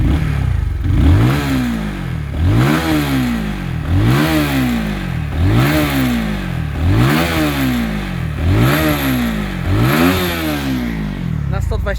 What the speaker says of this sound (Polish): Kultura pracy, dźwięk tego silnika jest po prostu wzorcowy.